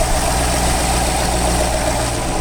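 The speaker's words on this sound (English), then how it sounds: "Start there just sort of idling down there." A classic car with only 1,000 miles on it idles steadily, a loud, close, even low engine drone with a constant hum and no revving or talking.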